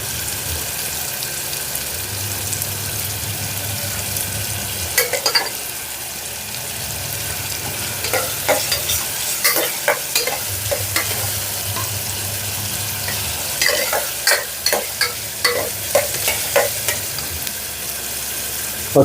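Green chillies and garlic sizzle in a pan for a brinjal and moong dal curry, with a steady hiss broken by repeated scraping stirs of a spoon, close and fairly loud, no voices.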